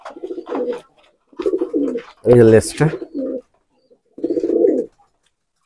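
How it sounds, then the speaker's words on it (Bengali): A female Nildumma pigeon coos close by in short bursts, mixed in with someone talking nearby, with quiet pauses between phrases. "এটা মাদি কবুতর।"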